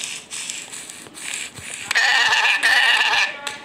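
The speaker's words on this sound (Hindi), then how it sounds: "और गाइस एक भेड़ मिल गई, इसको मार के वूल मिल जाएगा" A sheep bleats in the Multicraft video game, a loud nasal, wavering call that swells and holds near the end, heard alone over a steady game background.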